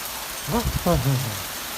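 Sudden heavy rain pours down in a steady, dense hiss throughout, while a person briefly speaks over it.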